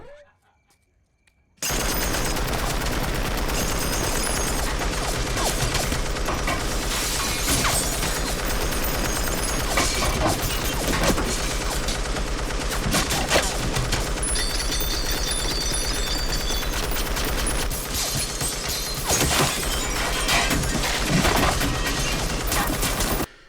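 Machine gun fire in a Call of Duty game, with an MG from a supply drop in use, sounds as a dense, continuous barrage of loud gunfire and blasts that starts abruptly after a silent opening and carries on to the end.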